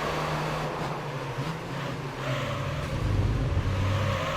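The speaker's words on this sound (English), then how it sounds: "I now hit the rev limiter once again" Toyota Vitz engine in Gran Turismo 3 holding a steady buzzing drone at the rev limiter, a sustained loud in-game engine tone that rises slightly in pitch and volume toward the end.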